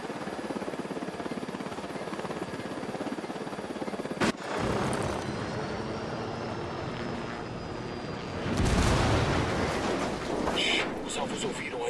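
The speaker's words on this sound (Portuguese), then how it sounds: "Helicóptero, no chão." Helicopter in the Ghost Recon Wildlands video game, rotor thrum running under game noise, broken by a sharp bang near the middle and a louder rumbling burst toward the end.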